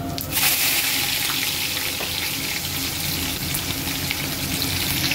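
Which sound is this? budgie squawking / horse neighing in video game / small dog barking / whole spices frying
whole spices frying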